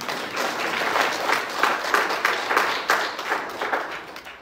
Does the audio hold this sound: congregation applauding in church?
yes